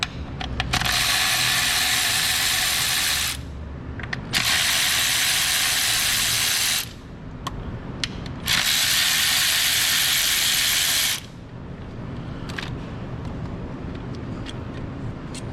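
Three long bursts of ratcheting, several seconds each, as a ratchet backs out the 10mm coil pack bolts on a Honda CR-V; loud and close, with short quiet gaps and scattered clicks between them.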